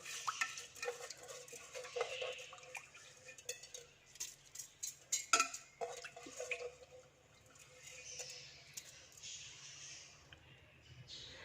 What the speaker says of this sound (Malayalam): ആദ്യം തന്നെ നമുക്ക് സോക്ക് ചെയ്ത് വെച്ചിരിക്കുന്ന റൈസ് കുക്കറിന് അതിലോട്ട് ഇട്ട് കൊടുക്കാം.